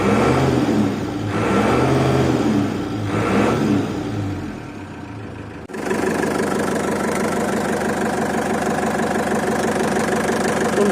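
A Mercedes T2 709D Vario diesel engine runs steadily for the whole stretch, with a deep, even idle whose rumble dips briefly before settling back into a loud, continuous drone close by.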